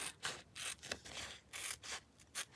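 Scissors snip through thin copy paper in a quick, uneven series of crisp cuts and rustles, close and moderately quiet, with no voices.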